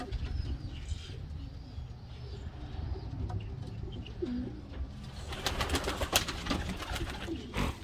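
Pigeons in a home loft and outdoor aviary give low, continuous cooing, with a burst of wing flapping and scuffling near the end.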